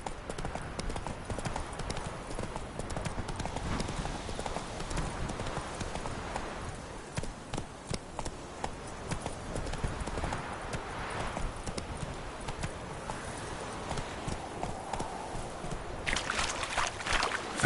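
Roach the horse trots in The Witcher 3, hooves clip-clopping in a steady, continuous rhythm close by across the whole stretch, with faint ambient game sound beneath.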